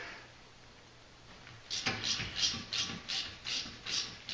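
Ratchet wrench working the caliper slide bolts on a BMW E46 330xi front brake, giving a run of about eight evenly spaced clicking ratchet strokes, close but fairly quiet, starting partway through.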